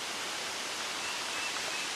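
Waterfall in Tennessee woodland heard as a constant broadband roar, steady and even with no breaks, fairly strong throughout.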